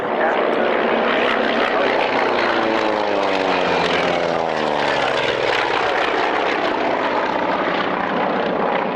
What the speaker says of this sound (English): It's an amazingly versatile and very manoeuvrable aeroplane.